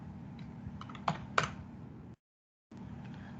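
Typing C code on a computer keyboard: a short run of close key taps with a couple of sharper strikes, then a sudden silent gap before faint room tone returns.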